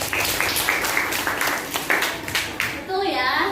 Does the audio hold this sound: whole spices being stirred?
no